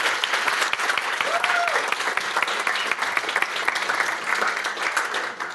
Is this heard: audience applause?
yes